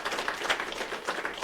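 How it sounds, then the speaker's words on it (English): A room at a news conference breaks into brief applause for students, a dense wash of clapping that stays fairly steady through the short moment. "give them a round of applause for that"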